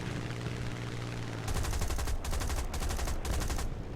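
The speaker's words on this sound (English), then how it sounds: "I open fire but miss" Hurricane Mk IIB machine guns fire in War Thunder over a loud droning engine, with several sustained rattling bursts separated by brief gaps.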